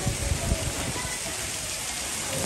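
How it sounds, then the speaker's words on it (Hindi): Heavy rain pouring in Quetta, a dense, steady hiss of rainfall with a few soft drops and thumps close by, continuous and loud for the whole short stretch. "ना बहुत तेज़ बारिश हो रही थी,"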